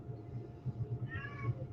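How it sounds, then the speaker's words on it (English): A house cat meows to be let out, faint harmonic cries rising above a low steady hum, with several short calls close together in a quiet room. "She's meowing to get out."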